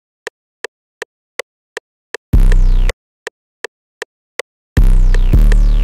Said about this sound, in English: The next 808 that I threw down is the Lab 808 from the Starboyrob Stash Kit